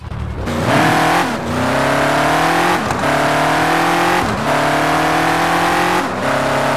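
Modified car engine in the Car Parking Multiplayer game, revving hard through a run of upshifts, each gear climbing in pitch and then dropping at the change; loud, continuous and close, with no talking.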